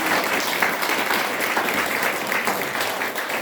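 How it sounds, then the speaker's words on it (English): A crowd claps steadily at a political party launch event in New Zealand, loud and continuous applause from a nearby audience with no speech over it. "So can I have a round of applause?"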